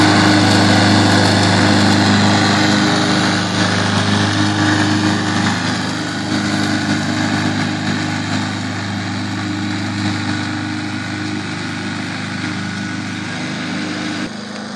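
A lawn mower runs steadily across a yard's grass, a loud, close, continuous engine drone for the whole stretch with no talk.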